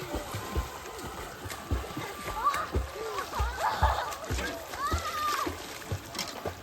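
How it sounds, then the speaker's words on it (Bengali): Children splash about while bathing in open water, repeated uneven splashes close by mixed with kids' voices and someone talking throughout. "গাইস এখানে সবাই ভাইরা কিন্তু নেমেছে চান করতে, মাও চান করতে নামছে"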